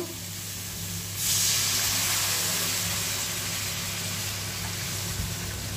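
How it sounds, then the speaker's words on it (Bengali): Water splashed into a pan of hot oily tomato and spice mix for a tilapia jhal erupts into a loud, steady hiss after about a second and keeps sizzling strongly to the end. "এবারে আমি জল দিয়ে দেব"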